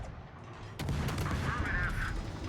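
Naval guns firing in the World of Warships video game, a heavy boom at about the one-second mark followed by sustained rumbling and crackling battle noise, with no one talking.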